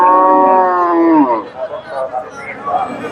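A Friesian cross cow at Dhaper Hat cattle market in Bogura gives one loud, close, falling moo lasting just over a second, followed by murmured voices and market chatter.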